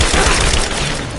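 Suppressive gunfire during a Rise of the Tomb Raider battle: a loud, continuous burst of overlapping shots with low booms, fading slightly toward the end.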